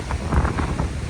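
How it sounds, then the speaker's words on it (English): Rough sea with waves around 6 to 8 feet roars in a dense, continuous wash during a severe coastal storm, with wind buffeting the microphone. "seas are very rough. Waves are probably 6 to 8 feet"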